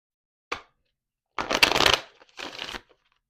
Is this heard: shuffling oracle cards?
yes